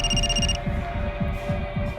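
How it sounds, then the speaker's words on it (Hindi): A landline telephone rings in an office scene from a Hindi crime drama, its bright electronic ring tone sounding at first over a throbbing, pulsing hum that keeps going after the ring breaks off. "तुम्हारा फोन बज रहा है, लैंडलाइन से"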